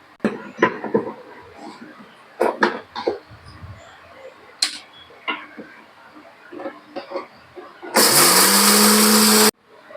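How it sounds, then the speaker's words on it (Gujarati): Mixer grinder crushing fenugreek seeds into a coarse powder, a loud steady whirring burst of about one and a half seconds that cuts off abruptly, following scattered knocks and clatter. "પહેલાં આ મેથીને આપણે મિક્સર જારની અંદર એડ કરી લઈશું"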